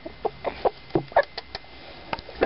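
A pet hen clucks in a string of short, separate bursts spread evenly over a couple of seconds, close and fairly loud, with one fuller cluck at the end.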